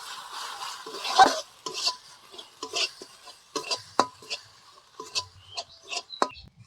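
Ginger, garlic paste and ground spices including Kashmiri chilli powder, coriander and turmeric being stirred in a pan, a series of short close scraping and tapping strokes of a spoon against metal over a faint low sizzle.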